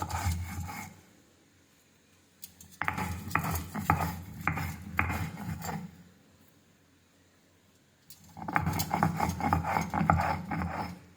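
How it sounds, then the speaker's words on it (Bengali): Green chillies being ground finely into a paste, rough rhythmic rubbing and scraping strokes close up in two bursts, with a quiet pause between them. "ভালো করে মিহি করে বেটে নেব লঙ্কাগুলো।"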